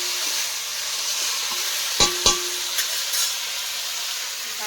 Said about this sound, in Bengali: একটু নেড়ে চেড়ে ভেজে দেবো।